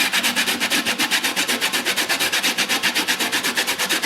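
Half a lemon is zested for bocconotti cookies with quick, even rasping strokes against a grater, close and steady at about six strokes a second, with no talk.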